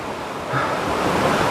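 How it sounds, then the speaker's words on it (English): Small mountain stream flowing along the Appalachian Trail, a steady broadband rush of water that swells slightly midway and stays close and continuous throughout, with no voices. "Here's a little stream for you, a little water feature this morning to get us going."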